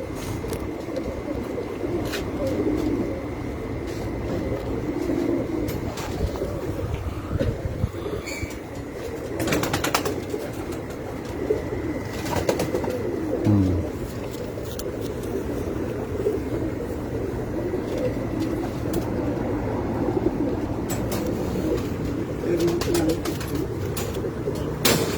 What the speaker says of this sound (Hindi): ये कबूतर है जी मेरा रोजपुरी और कमकगर क्रॉस